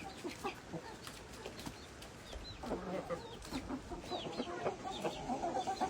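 Mother hens cluck steadily at close range on a farm, with chicks nearby, the soft broken clucks and chirps running throughout with faint rustling and occasional wing flaps.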